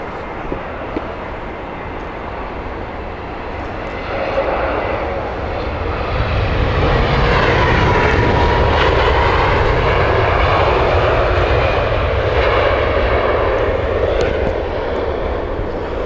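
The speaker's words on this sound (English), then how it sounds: "Munich flight on final now" A jet airliner from Munich roars on final approach into Heathrow, its engine noise swelling from a steady rumble into a loud, sustained whine and roar that holds to the end with no one talking.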